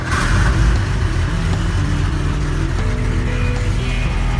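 A 1985 Toyota FJ60 Land Cruiser engine, running rough and only on full choke, rumbles loudly and unevenly up close, a steady low drone with no talk over it.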